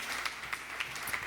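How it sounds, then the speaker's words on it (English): Faint applause from an audience at a marketing summit in New York City, a soft steady patter of claps with a few sharper hits, heard distantly and alone. "if folks can just give a round of applause to everyone who's been a part of organizing this"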